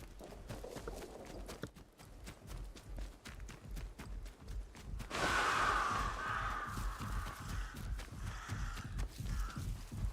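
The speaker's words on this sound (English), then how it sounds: "It's fucking crows again." Crows caw in the game Atomfall, loud harsh calls in the second half over the quick thud of running footsteps that carry on throughout.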